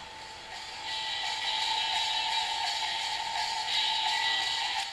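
Music from a CD player comes through a homemade loudspeaker built from a styrofoam cup, a coil and a permanent magnet, giving a thin, tinny, steady sound at low volume.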